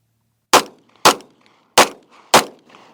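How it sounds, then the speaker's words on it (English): Four loud, sharp pistol shots fired at a target, irregularly spaced over a few seconds, each cracking out alone and trailing off in a short echo. "I'm going to shoot a couple shots at the target"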